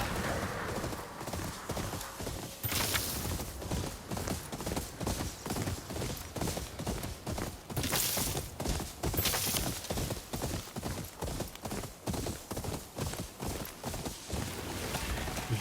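Steady rhythmic hoofbeats of a galloping horse in the video game Ghost of Yotei, loud and close, with a brief whinny early on and a few sharper bursts along the way.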